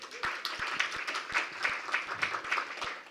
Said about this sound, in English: I heard somebody say, woo, you could have clapped for that